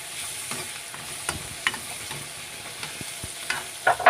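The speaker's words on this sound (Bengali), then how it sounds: "কষিয়ে নিচ্ছি আস্তে আস্তে নেড়ে ছেড়েও কষিয়ে নিচ্ছি" Masala for Maggi noodles fries in a pan under a slow spatula, with soft irregular scrapes and taps over a low, steady sizzle, close and fairly quiet.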